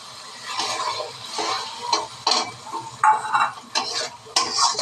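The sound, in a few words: nigella seeds and onion paste added to hot oil, sizzling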